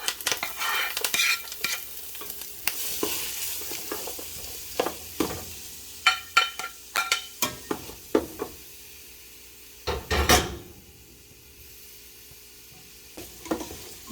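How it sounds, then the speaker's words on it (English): Garlic, pimento peppers, hot pepper, thyme, green onion and shadow benny sautéing in a pan: a soft sizzle broken by frequent scraping stirs and taps of a utensil, close and clear with no talking. "You're going to let this saute for about 2 minutes until your aromatics get nice and tender"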